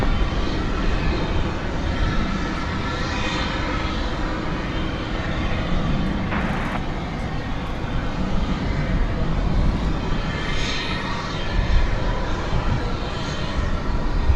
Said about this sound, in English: A300 off to Chicago Rockford International Airport